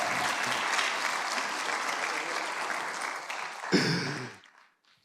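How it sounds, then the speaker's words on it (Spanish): Congregation applause at a church congress, a sustained crowd clapping that swells, then is cut by a brief louder burst before quickly fading to near silence. "¿Y a él no le aplauden?"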